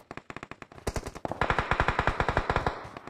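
Rapid gunfire in the video game PUBG Mobile: quick bursts of automatic shots, loud and close, turning into a dense, continuous rattling stream with no talk.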